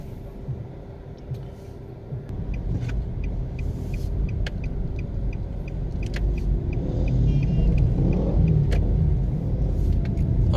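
A car drives along a city road in Kingston, Jamaica, with a steady low engine and road rumble heard from inside that grows slightly louder, plus occasional faint ticking and clicks.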